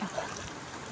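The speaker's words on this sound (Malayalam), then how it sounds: "ഇതാ മഴ പെയ്യുന്നുണ്ട്." Rain falling beside a river makes a brief, steady wash of soft patter blended with the trickle of flowing water, moderately quiet and close, with no voices.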